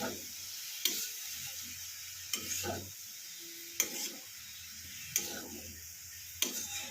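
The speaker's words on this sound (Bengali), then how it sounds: "এবার নাড়িয়ে নেবো ভালো করে সব।" Thukpa ingredients stirred in a pan, with a quiet background sizzle and sharp regular clacks of a spoon against the pan about every second and a half, no talking.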